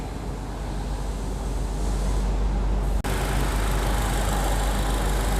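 A car engine runs steadily after a gasket repair, a loud, close, low idle rumble that holds throughout with a single brief dip partway through.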